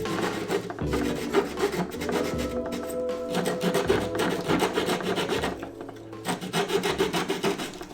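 Close, continuous rubbing and rasping as an interior surface inside an ambulance being converted to a camper van is sanded down, steady back-and-forth scraping strokes with no talking.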